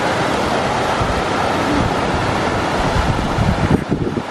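A creek swollen and muddy with spring runoff rushes steadily in the North Absaroka Wilderness, a broad continuous wash of water with wind buffeting the microphone, holding even throughout.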